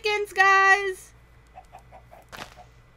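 A burst of harmonic squawking followed by soft, short clucks spaced out, then a brief noisy flutter; cartoonish Minecraft chickens, fairly close, no talk.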